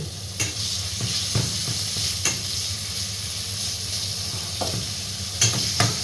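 Pork stir-frying in a hot pan, a steady close sizzle broken by several sharp scrapes and clacks of a spatula against the pan, no voices.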